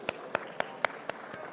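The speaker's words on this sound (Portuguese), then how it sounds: "eu peço a todos nós agora uma salva de palmas" Clapping for a federal deputy at a Brazilian political gathering comes as six sharp, evenly spaced claps, roughly four per second, standing out over a faint background.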